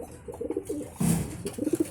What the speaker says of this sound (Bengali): ফ্লাইংয়ের কবুতর দিয়ে শুরু করতেছি।